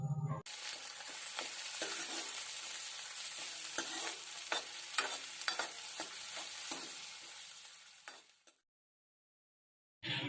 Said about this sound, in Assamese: এতিয়া আদা নহৰুৰ কেঁচা গোন্ধ নোযোৱালে আমি এইখিনি অলপ সময় ভালদৰে ভাজি লম।